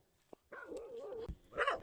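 A village dog at a rural Thai farm home barks a few times, faint and somewhat distant, with a short sharp click before it and a louder yelp at the end.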